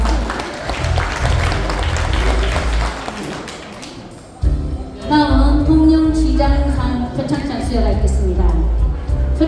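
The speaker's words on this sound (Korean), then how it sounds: "시상해 주신 정점식 국회의원께큰 박수 부탁드립니다" Seated guests at an award ceremony clap for a presenting lawmaker, a dense patter of applause that fades out partway through, after which a voice speaks over quiet room tone.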